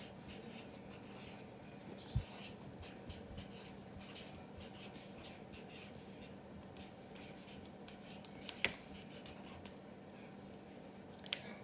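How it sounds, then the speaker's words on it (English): Pen or pencil scratches across paper in a classroom lesson, soft continuous strokes and scribbles up close, faint and steady with a few small taps. "we're going to write that one down in our K column"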